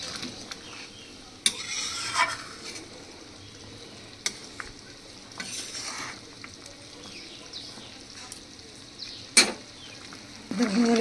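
Chhana bara, cottage cheese dumplings, cooking in a vegetarian curry in a pan, with soft sizzling and bubbling broken by a few sharp clinks and scrapes of a spoon against the pot.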